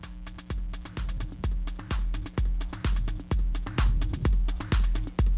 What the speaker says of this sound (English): I'll get a little drum loop going so you can hear it a little better.